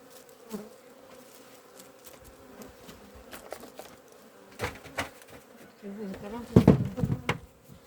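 Honeybees buzz at close range at the hive, a low, steady drone with louder swells as individual bees pass near, mixed with faint scattered knocks and rustles.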